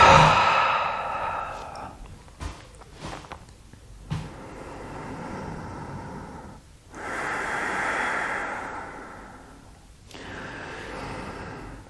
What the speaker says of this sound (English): inhale through the nose and then last little bit more inhale and exhale through the mouth